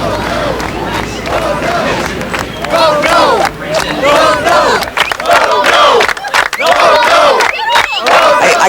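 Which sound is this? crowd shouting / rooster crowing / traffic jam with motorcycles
crowd shouting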